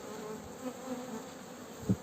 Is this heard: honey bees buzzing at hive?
yes